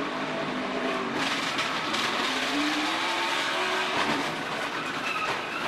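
A cut tire flaps on a NASCAR stock car racing at Iowa in 2017, a steady rushing drone of engine and wind with a faint rhythmic beat, loud and continuous throughout.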